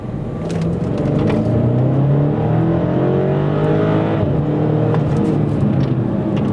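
A stock BMW X5 SUV with the S63 engine, about twelve years old, accelerating hard: a loud, continuous engine roar rising in pitch through the gears, heard from close by with no talk.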